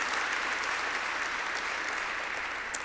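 An audience at a breakfast gala gives sustained, dense applause, many hands clapping evenly at a steady level for the whole stretch.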